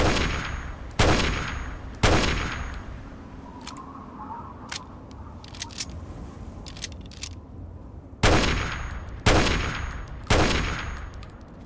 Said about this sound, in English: Whoa, what are you shooting, mate?